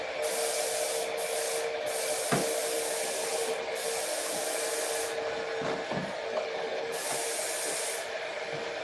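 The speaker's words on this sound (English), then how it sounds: "Of course, airbrush doesn't put out very much paint." An airbrush hisses steadily as it sprays clear coat over painted lines, a continuous close airy spray broken by a few short pauses and light knocks.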